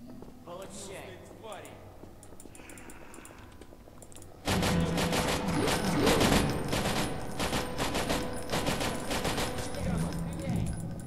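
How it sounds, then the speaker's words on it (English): Rapid gunfire from the video game Paranoia 2 erupts about halfway through, loud dense bursts continuing to the end after a quieter stretch of game sounds and talk. "Shoot, shoot, shoot. Bang, bang, bang."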